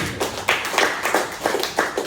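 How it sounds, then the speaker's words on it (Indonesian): A small audience of about thirty people at a business gathering claps in a brisk, fairly even rhythm, several sharp hand claps per second heard close and clear with no talking. "Berikan tepukan kepada dia."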